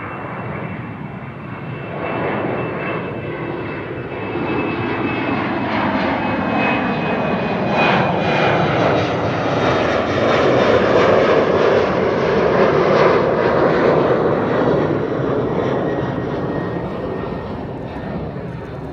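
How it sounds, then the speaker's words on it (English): An Emirates Airbus A380 lands on the center runway at Amsterdam Schiphol, producing a loud, steady jet engine roar that swells to a peak midway and then eases slightly. No one speaks. "Now that was the Emirates A380 landing on the center runway just now."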